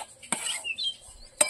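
Dry semolina being stirred in a pan, with two sharp scraping clinks of the spoon against the metal and a quieter rustle between them, while faint bird chirps sound in the background.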